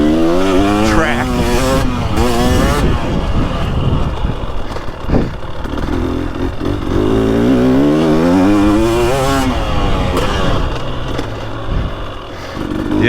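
A 2023 Husqvarna TX300 two-stroke dirt bike ridden on a dry, choppy vintage moto track, its engine loud and close, revving up and down continuously through gear changes with wind noise throughout.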